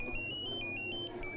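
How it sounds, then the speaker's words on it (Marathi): A phone rings indoors with a bright, repeating electronic melody of stepped tones, moderately loud and heard alone. "फोन आला फोन"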